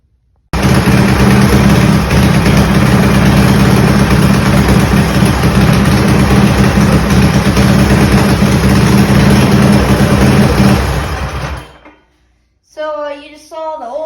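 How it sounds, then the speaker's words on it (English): A modified Predator 212 small engine runs steadily after an oil change, giving a loud, continuous rumbling idle for about eleven seconds before it cuts off abruptly. A voice follows briefly at the end. "we're just running the motor, get the oil circulating through the motor"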